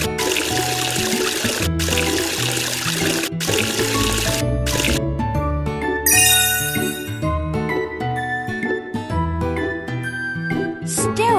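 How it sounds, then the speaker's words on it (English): Water splashing and trickling as soap bubbles are rinsed off a brush in a children's cartoon, with tinkling musical chimes and bright playful effects over continuous pouring and dribbling. "Use water to wash off the bubbles."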